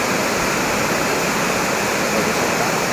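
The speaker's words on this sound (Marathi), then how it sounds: "पाणी किती स्पीडने खाली जाते इथे" Water rushes fast down from a dam, a loud, steady, dense roar of falling water filling the scene without pause.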